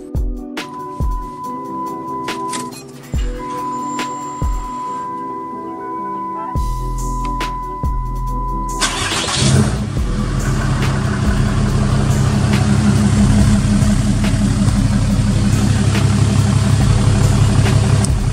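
A truck engine cranks and catches, then settles into a steady, loud diesel idle rumble that continues to the end, with a few clicks and a tone beforehand; an AirDog II 4G fuel pump is fitted.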